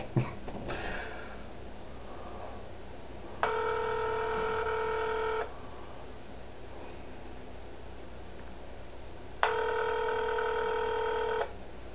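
Two bursts of rapid phone keypad dialing tones several seconds apart, each lasting about two seconds, over faint background hiss; the call then rings.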